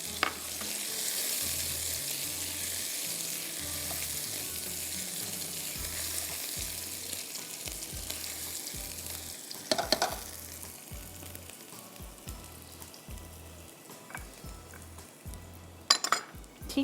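Crushed garlic and softened onion fry in a pot with a steady close sizzle, broken by clinks of a utensil against the metal and a few sharp clatters near the end, with no speech.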